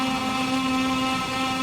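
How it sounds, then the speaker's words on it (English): A Moto2 motorcycle engine held at high revs on the start grid at Silverstone in MotoGP 21, a loud steady whining drone with a constant pitch and no talk. "so we'll clutch in, revs up"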